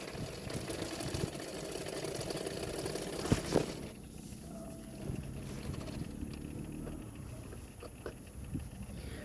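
A sewing machine stitches along the edge of a blouse hook strip, a quiet steady mechanical whirr with a faint pattering rhythm and a short clatter partway through.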